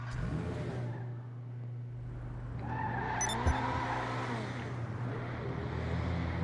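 Car driving in GTA Online on PS5, a steady engine drone with revving and a squeal of skidding tires midway, loud and continuous with no talk.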